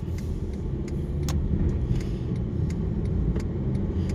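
Steady low rumble of a car driving along a city road in Bangkok near Ramkhamhaeng, heard from inside the cabin, with constant road and engine noise and faint light rattles, no voices.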